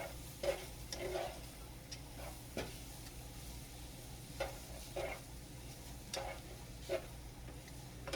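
Sausage frying in a pan, a soft steady sizzle with intermittent light taps and scrapes of a utensil stirring the meat, close and quiet.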